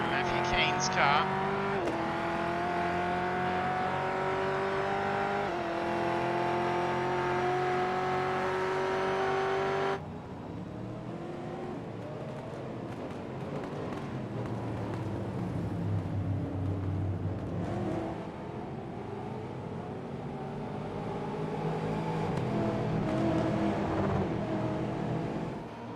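Stock Car Brasil cars race at Sebring in iRacing, engines whining high as one passes, then a lower roaring rush of several cars flying by, under a commentator's voice.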